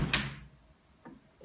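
An apartment door in Germany is opened, giving a sharp latch click and thud at the start followed by a couple of faint, softer knocks of handling in a quiet room.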